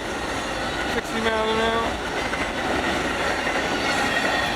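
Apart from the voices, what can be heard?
Amtrak Auto Train passing at speed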